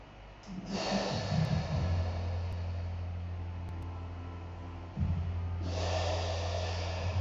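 Heavy breathing during a barre and Pilates workout, a long drawn breath followed by a steady exhale through the nose, with a second breath starting near the end, close and fairly loud.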